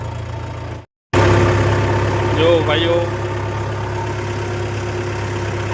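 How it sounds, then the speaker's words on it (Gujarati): A Mahindra tractor engine drones and idles close by in first gear, with a brief dropout near the start and someone speaking over the rumble. "એકદમ બાજુ બાજુ એ ટ્રેક્ટર પહેલાં ગેરમાં હાલે"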